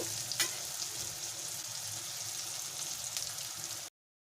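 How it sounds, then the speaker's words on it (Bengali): Three medium chopped onions fry in oil for chicken curry, a steady close sizzling hiss with a brief louder crackle near the start, then sudden silence. "পেঁয়াজটাকে আমি ভালো করে ভেজে নেব"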